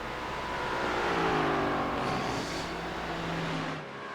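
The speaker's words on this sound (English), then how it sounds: "Mustang looking and sounding quite mean. I do quite enjoy the sound of that car." A Mustang GT4 race car engine in a racing video game roars and revs, its pitch sweeping up and down as it accelerates, loud and sustained, then easing slightly at the end.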